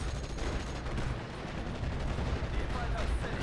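Staghound armoured car firing on infantry in the Steel Division war game, a dense rattle of gunfire and distant battle explosions packed into a continuous, moderately quiet barrage.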